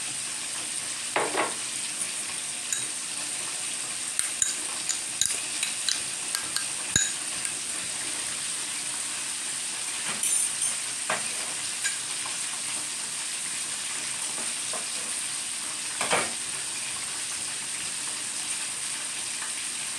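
Snow peas, carrot and minced pork stir-frying in a pan, with a steady sizzle and scattered clinks and scrapes of the utensil against the pan, no voices.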